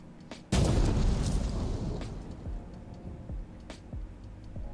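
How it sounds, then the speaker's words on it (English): A single heavy detonation booms in the video game Out of Ore, a sudden loud blast followed by a long rumbling decay with faint scattered ticks and clicks. "Detonate."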